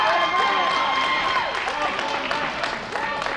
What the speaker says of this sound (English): the crowd is certainly elated to see Matt as well